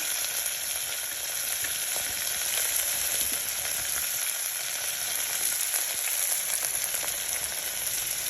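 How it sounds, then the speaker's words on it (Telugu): Mustard-type tempering seeds and asafoetida fry in hot oil with a steady, close, crackling sizzle that holds at an even level throughout, with faint stirring and no voices. "తాలింపు పోపు గింజలు వేసాను, ఇంగు వేసాను"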